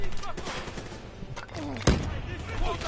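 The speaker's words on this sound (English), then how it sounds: "That was my own grenade." A player's own grenade explodes in the Black Ops 3 story campaign, one sharp, loud blast cutting through game noise and muffled voices partway through.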